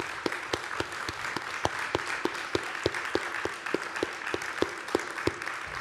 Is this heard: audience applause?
yes